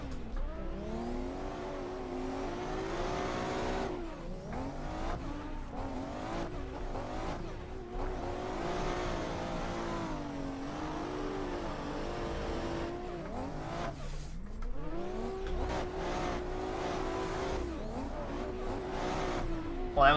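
Nissan Z drift car on Achilles radial tires in Assetto Corsa, engine revving hard and rising and falling through repeated slides, with tire squeal and skidding woven in as it transitions back and forth.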